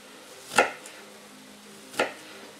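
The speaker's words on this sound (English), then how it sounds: "I'm chopping up some of my onions" Two distinct knife chops through onions on a cutting board, spaced about a second and a half apart, close and clear against a quiet background.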